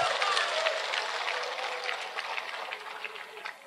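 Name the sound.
audience applause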